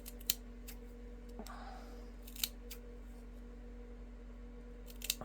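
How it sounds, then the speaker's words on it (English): Small fringe scissors snip a scrap of envelope paper into grass for a springtime paper craft, giving a few quiet, sparse clicks and snips close by against a steady low hum. "with those little fringe scissors"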